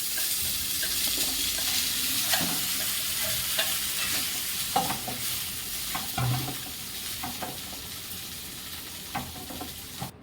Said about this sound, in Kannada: ನಾನಿಲ್ಲಿ ರೈಸ್ನ ಮುಂಚೆ ಮಾಡಿಟ್ಕೊಂಡಿದ್ದೆ, ಅದನ್ನು ಇವಾಗ ಬಾಣಲೆಗೆ ಸೇರಿಸ್ತಾ ಇದ್ದೀನಿ.